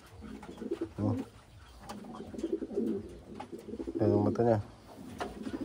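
Wantai pigeons coo in soft, rolling bursts close by, with someone talking over and between the calls.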